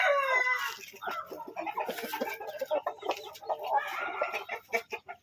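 Asil fancy roosters and hens cluck and crow together in a busy, continuous flock chorus, with overlapping calls filling the whole stretch at close range.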